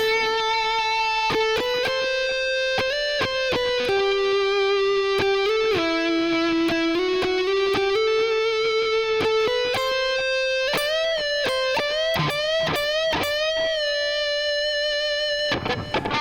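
Electric guitar on the neck pickup plays a harmonized interlude top line from a song, a lyrical melodic phrase with slides and sustained picked notes, mildly driven tone, solo and close.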